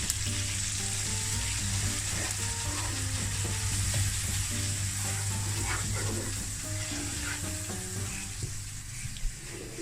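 Tomatoes and spices fry for chicken pilau in a steady, loud sizzle that holds throughout, with light clinks and stirring scrapes scattered over it.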